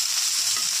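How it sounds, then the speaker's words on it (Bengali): Cauliflower pieces fry in hot soybean oil with a steady, dense sizzle that fills the short moment evenly and up close, without any talking. "গরম হয়ে গেছে, আমি ফুলকপিটা তেলে করে ছেড়ে দিলাম"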